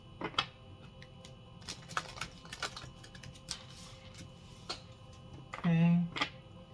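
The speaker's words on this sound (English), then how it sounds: "Okay, so now we're going to go ahead and shuffle for the month of June." Soft clicking and riffling of tarot cards being shuffled, with scattered taps and a brief louder flutter near the end, under quiet background noise.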